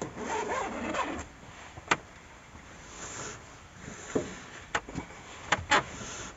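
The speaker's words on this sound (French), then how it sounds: "Et quand j'ouvre, la fermeture éclair." A zipper on fabric curtains fitted inside a camper van is pulled open, giving a faint, continuous rasp with several sharp clicks and ticks spread through it, heard alone in a quiet interior.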